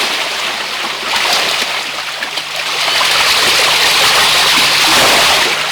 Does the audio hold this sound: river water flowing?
yes